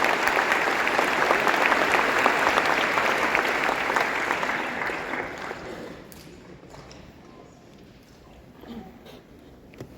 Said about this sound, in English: a round of applause for these young men and women